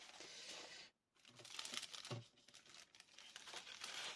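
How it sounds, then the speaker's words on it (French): Paper crinkles and rustles continuously while an order is unpacked, soft close-up crackling with a brief pause, faint and without voices. "je vais faire du bruit avec le papier"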